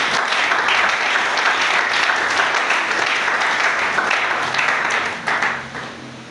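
A church congregation bursts into sustained, loud applause and clapping, a dense steady wash that holds for several seconds before easing slightly at the end.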